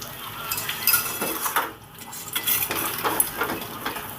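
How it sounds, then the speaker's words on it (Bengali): Egg chowmein being stirred and fried in a pan, with a metal utensil clinking and scraping against the pan over a steady close sizzle, in repeated strokes with a brief lull midway. "এইভাবে আমি নেড়ে চেড়ে এটাকে তিন থেকে চার মিনিট ভালো করে ভেজে নেব"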